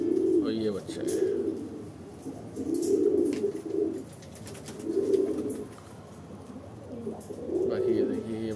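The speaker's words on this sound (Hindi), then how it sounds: "ये देखिए, ये बाकी कबूतर है हमारे" Pigeons kept in a loft give soft, rhythmic coos that repeat roughly every two seconds, close by, with faint chirps and light background noise between the calls.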